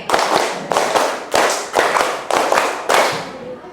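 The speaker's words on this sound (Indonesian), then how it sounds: "Tepuk 5 2 kali." A class of students claps in a rhythmic ice-breaker pattern, sharp group claps grouped into repeated bursts with brief pauses between them, loud and close in a classroom.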